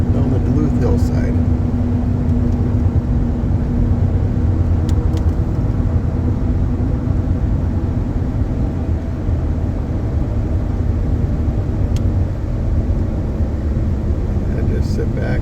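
A car cruises down the Duluth hillside toward the lake, its steady low engine rumble and road noise continuous and close throughout, with talk over the top.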